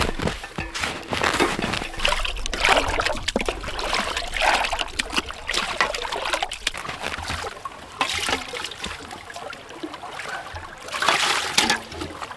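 Water trickles and splashes steadily while it is fetched at a snowy winter camp, a continuous close liquid dribble with a few louder splashing bursts and faint crinkling, no talk.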